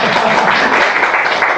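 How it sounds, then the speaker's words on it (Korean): Lecture-hall audience clapping in a steady, dense wash of applause for a speaker, continuous and fairly loud throughout with no gaps. "박수 쳐주세요"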